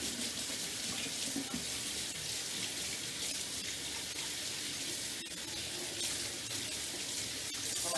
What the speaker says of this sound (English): so let me just rinse my hands.